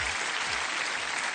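Studio audience applause on a French TV quiz show, a steady, dense burst of clapping that fills the whole moment with no voices on top.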